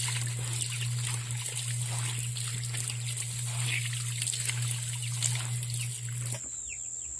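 Water trickling and dribbling as cassava pulp wrapped in cloth is squeezed, a steady close liquid patter over a constant background hum that stops abruptly near the end.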